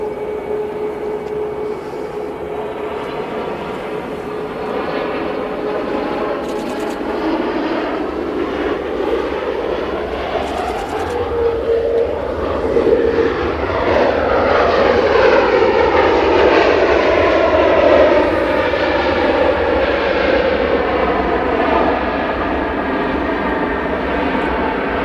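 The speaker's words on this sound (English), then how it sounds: "we got a Ryanair 737 Max" A Ryanair Boeing 737 Max jet at Manchester Airport roars loudly, with a shifting tonal whine that sweeps through the sound as it passes and the noise swells toward the middle and stays strong.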